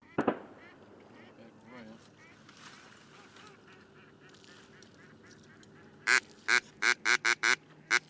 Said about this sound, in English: that's a group of probably a dozen snow geese